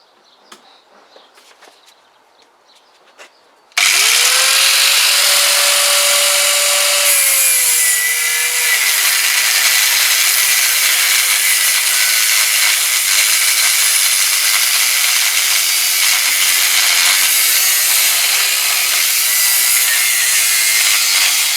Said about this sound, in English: let's get the disc cutter out